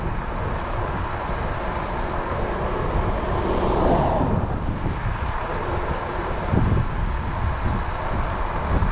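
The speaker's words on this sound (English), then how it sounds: "Get the full wind now." Loud, steady wind roar rushes past on a Varla Pegasus electric scooter pushed near top speed, a broadband whoosh that swells slightly mid-ride with no talking.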